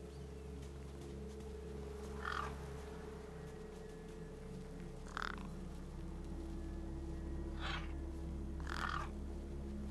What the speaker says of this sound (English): Gang birds were eyeing up the corpse hungrily.